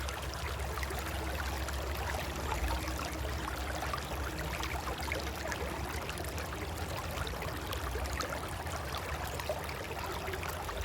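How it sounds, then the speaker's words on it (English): Steady rushing and babbling of flowing creek water, continuous and fairly close, with no voices. "Listening to the sounds of the water"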